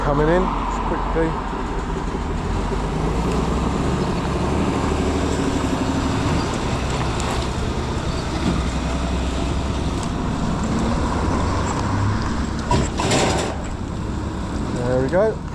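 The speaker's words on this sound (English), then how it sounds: "ASM lorry coming in just quickly." An ASM lorry drives into an auto recycling yard on an industrial estate in Thame, Oxfordshire, its engine rumbling low and steady with rattling mechanical clanks, while people talk nearby.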